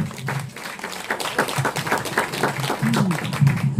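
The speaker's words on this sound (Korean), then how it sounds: "힘찬 박수 부탁드리겠습니다" Audience applause at the opening ceremony of a jokgu (foot volleyball) tournament, steady scattered clapping from a crowd with a low background murmur of voices, moderately loud throughout.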